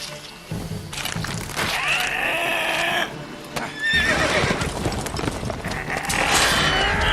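A horse in The Witcher 3 whinnies and snorts among other game sounds, with rising neigh-like calls around the middle and again near the end, fairly loud and close, with no talking.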